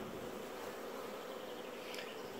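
Honey bees hum steadily at a hive during beekeeping work on queen cells, a dense, continuous buzz that stays fairly faint and even throughout with no talking.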